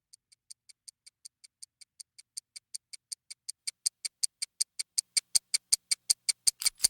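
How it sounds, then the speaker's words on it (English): A wristwatch ticks steadily, about four ticks per second, getting gradually louder and heavier until the final clicks take on the deep metallic clack of a gun being reloaded. "The ticking sound of Walt's new watch turning into the sound of a gun reload."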